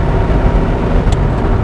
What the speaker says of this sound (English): I really just want to listen to this motor